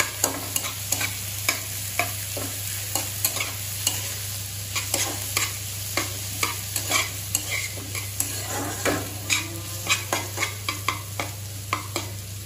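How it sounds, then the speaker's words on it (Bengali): A spatula stirs and mixes fried green chillies and onion in a hot frying pan on a steady sizzle. Scraping strokes come close and loud, in a fairly regular rhythm, over a constant low hum and with no voices. "আর এবার এগুলো ভাজার সাথে মিক্স করে নেব"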